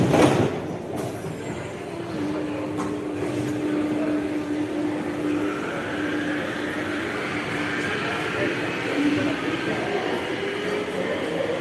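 A metro train set in Lille rolls along with a continuous rumble and clatter, while a sustained wheel squeal rises and falls, loud and close throughout.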